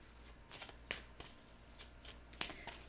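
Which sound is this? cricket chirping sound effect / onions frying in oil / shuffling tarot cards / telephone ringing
shuffling tarot cards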